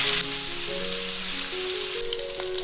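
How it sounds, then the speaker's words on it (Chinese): Pork ribs fry in hot oil in a pan, a continuous crackling sizzle under soft background music. "起锅热油，把排骨放下来煎。"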